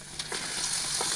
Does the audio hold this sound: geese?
no